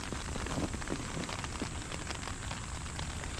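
Steady rain pours down on a small island, a dense continuous hiss of drops on surfaces, loud and even throughout with no voices.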